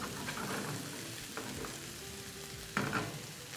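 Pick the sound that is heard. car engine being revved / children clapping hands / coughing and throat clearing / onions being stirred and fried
onions being stirred and fried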